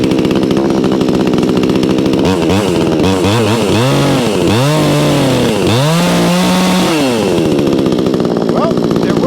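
A Vevor 20-inch gas chainsaw engine runs loud and close after starting, idling roughly and then revving up and down several times in rising and falling bursts.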